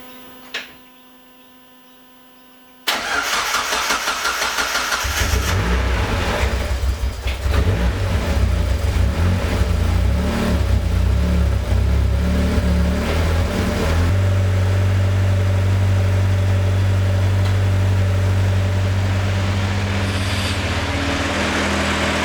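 A turbocharged time attack car fitted with new fuel injectors, upgraded from 700cc units, cranks after a near-silent pause and fires at about three seconds. It then runs loud and close, with a rough idle and rising revs throughout.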